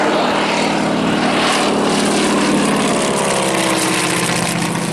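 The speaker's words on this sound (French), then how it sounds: "C'est un avion d'entraînement américain" Loud, continuous drone of a North American propeller trainer aircraft engine at an air meeting, a steady roar with a slowly shifting pitch, close by.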